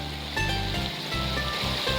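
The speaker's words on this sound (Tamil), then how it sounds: "ஏரியிலேருந்து கோடி வழிஞ்சு போகுது" Water overflowing from a large lake rushes as a flowing stream at Periyeripatti lake, a steady close wash of water with no talk.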